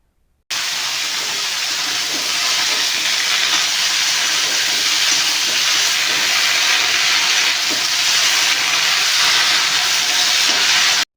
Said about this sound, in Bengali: কাজ হচ্ছে শুধু আলু এবং পটলগুলোকে ভাজা